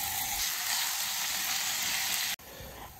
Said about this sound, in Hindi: सबसे पहले 1 से 2 मिनट चिकन फ्राई कर लेना